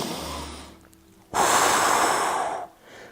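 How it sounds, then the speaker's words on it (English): Audible breathing during a Pilates stretch: a short nasal sniff, then a long forceful exhale lasting over a second, close and clear with quiet breaths before and after. "I'd love you to breathe now"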